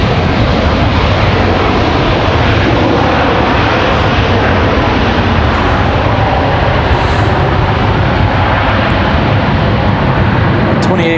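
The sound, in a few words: American Airlines 3163 A321 arriving from Charlotte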